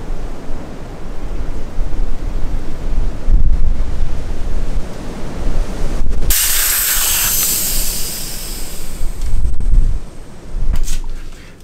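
Strong wind buffets a microphone outdoors in a continuous rough roar, with a sharp, loud hiss of escaping air bursting in partway through and then fading, along with a few brief knocks.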